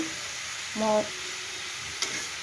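Mixed vegetables stir-fry in a pan with a steady, moderate hiss, a short clatter of the utensil partway through and a faint tap afterward.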